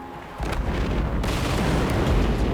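A methane explosion at a truck being loaded at a Chinese industrial site: after a brief quiet moment, a sudden loud boom gives way to a sustained, roaring, rumbling blast that fills the rest of the clip.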